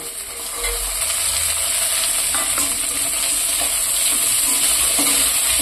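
Soaked cashews and raisins frying in hot oil, a loud, continuous sizzling hiss with faint stirring clinks, close by and without talk.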